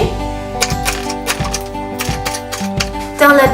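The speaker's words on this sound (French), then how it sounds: "Je vais couper le poireau de manière un peu penchée." A knife chops through leek on a cutting board, the blade striking in a steady series of sharp close knocks, about eight cuts over a few seconds, with soft music sustained underneath.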